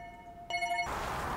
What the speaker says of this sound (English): My mum's ringing.